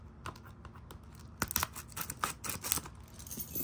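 Keys scrape and tear through the plastic wrap on a 4K movie case, giving a run of crisp slicing and crinkling sounds close by that grow busier halfway through.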